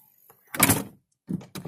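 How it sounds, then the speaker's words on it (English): The door of a 2016 Perodua Bezza 1.3 Premium X sedan, a light door, shuts with a single close thud, followed by brief interior rustling and clicks. "you need to use more energy to close the door"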